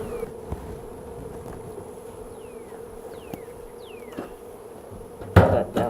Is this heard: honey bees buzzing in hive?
yes